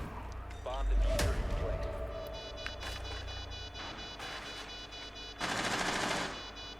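Machine-gun bursts and gunshots ring out in a Rainbow Six Siege match, a loud burst near the start, scattered shots through the middle and another dense volley toward the end, with players talking over the action.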